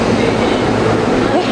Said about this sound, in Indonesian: Terlambat, keretanya sudah pergi.